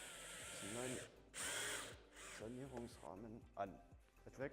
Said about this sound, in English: We will now pre-drill them. I use a 6mm drill bit.